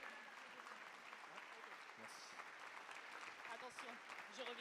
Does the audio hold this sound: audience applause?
yes